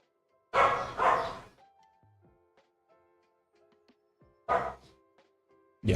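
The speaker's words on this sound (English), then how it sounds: "I'm sorry for the dogs being so loud." Dogs bark loudly nearby in two bursts of a double bark, the first around half a second in and the second near the end, with quiet gaps of faint room tones between them.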